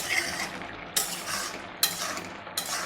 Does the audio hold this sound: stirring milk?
yes